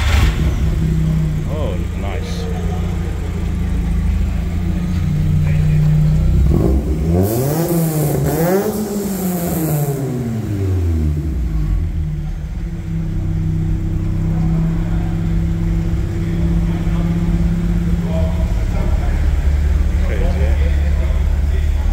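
A naturally aspirated 1.8-litre 20-valve engine in a VW Golf Mk1 cranks and fires, then revs hard through a rising and falling sweep before settling to a steady idle, with people talking close by throughout.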